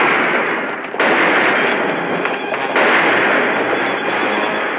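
Heavy gunfire from a shootout around a house in the old black-and-white western series The Life and Legend of Wyatt Earp: a dense, loud, continuous barrage of shots blurring into a steady roar, with a brief dip near the first second and no talking.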